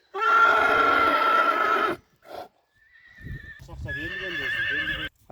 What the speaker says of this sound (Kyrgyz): Күчтүү жылкы экен да.